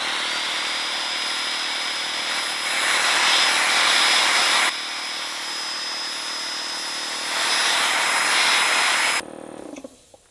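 An air compressor and a circular saw run together off a portable power station, a steady motor drone with two louder surges before the power cuts out abruptly near the end.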